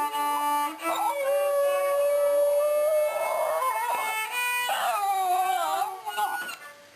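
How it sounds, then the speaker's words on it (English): A dog howls in long, wavering, melodic tones, singing along with its owner playing a flute, the two sustained pitches blending closely and loudly throughout. "This chap is singing along with its owner, who's playing the flute."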